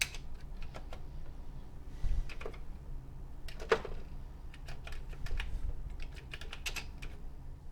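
Keys clatter on a Commodore VIC-20 computer keyboard in a steady run of sharp, close clicks with a few brief pauses, alone with no talking.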